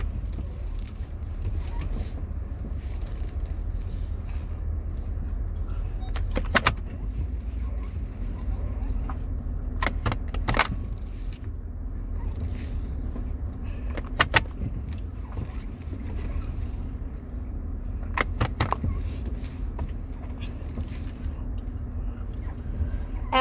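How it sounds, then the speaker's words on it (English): A car idles and is being parked, with a steady low engine rumble throughout and a few brief sharp clicks and jingles, like keys and a power window, at intervals. "Let me park the car first."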